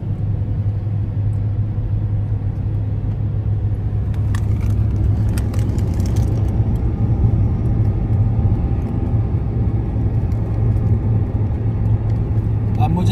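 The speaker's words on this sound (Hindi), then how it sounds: "अब मुझे ब्रेक्स का सहारा नहीं लेना पड़ रहा, इंजन ब्रेकिंग पे गाड़ी खुद रुक रही है" A car in second gear coasts downhill on engine braking during an Islamabad to Karachi road trip, with a loud, steady cabin drone and low engine hum running continuously and a few light rattles partway through.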